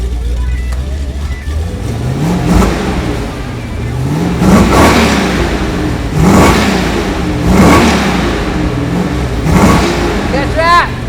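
A Mopar Hemi V8 fed by dual four-barrel carburetors revs hard up close in a series of about five rising bursts roughly every two seconds, each swelling over a steady loud idle.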